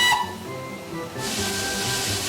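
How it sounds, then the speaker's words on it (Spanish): A steam locomotive vents a broad rush of hissing steam that swells in partway through and holds steady to the end, loud and close after a quieter opening. "con el fuerte sonido de la salida de vapor, esta locomotora está lista para partir"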